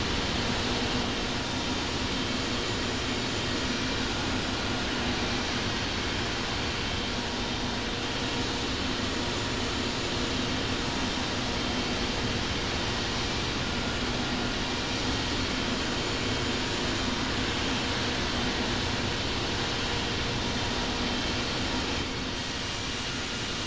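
A Boeing 777-300ER taxis in the flight simulator Infinite Flight, giving a steady, unbroken broadband jet engine roar with a low hum underneath, even in loudness throughout.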